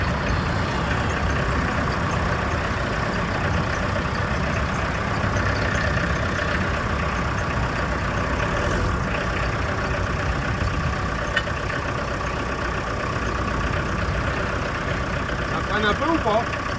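Vintage camping-car engine idling just after starting, a steady mid-low hum that stays even and close throughout, with people talking over it.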